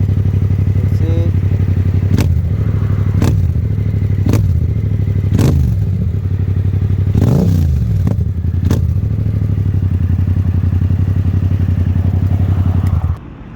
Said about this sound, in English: now I want to test the acceleration because it's too loud